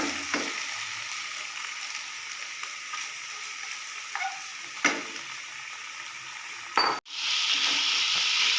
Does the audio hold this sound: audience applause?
no